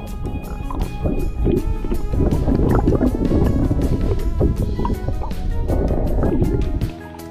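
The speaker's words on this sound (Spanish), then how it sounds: "Vamos a meter la cámara al agua." A camera dips into a river near a bend, giving a loud, muffled underwater rumble and gurgling with churning low tones throughout that drop away at the end.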